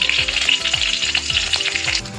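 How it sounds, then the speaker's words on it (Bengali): A green chilli frying in hot oil, a loud, crackling close-up sizzle with repeated sputtering pops and spatter, steady throughout and without voices. "দেখো লঙ্কাটা আমার ভাজা হয়ে গেছে"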